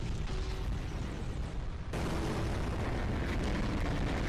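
Explosion in a Skibidi Toilet animated episode: a dense, loud, sustained roar of blast noise that swells abruptly about halfway through and keeps rumbling to the end, with no voices.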